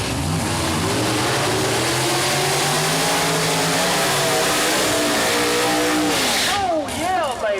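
Nitrous-fed Pro Mod door slammer drag cars of about 2,500 horsepower, including a '63 Corvette, at Mooresville Dragway, roaring loudly and continuously at full throttle, then sweeping past in pitch-shifting passes near the end, with a commentator talking over them.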